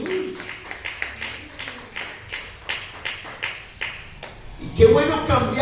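A church congregation claps in slow, rhythmic unison, roughly one clap every half second, moderately close, before louder voices rise at the end.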